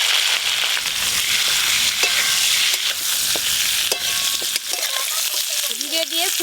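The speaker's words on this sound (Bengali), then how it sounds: "ফুলকপিগুলো একটু ভালো করে ভাজা ভাজা করব, লাল লাল করে" Cauliflower with cumin seeds and turmeric frying in a pan, a constant bright sizzle with intermittent scraping and clinking strokes of stirring, getting busier toward the end.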